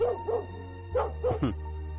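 A dog barks several times in short, close yips and woofs over a steady low background hum, with no talk.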